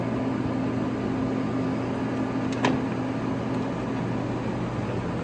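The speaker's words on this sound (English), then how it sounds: "Here's your carriage. Carriage reversal." A 1971 LeBlond 36-inch by 20-inch engine lathe with taper attachment hums steadily as its carriage feed reverses, marked by one short, sharp clunk over the constant motor drone.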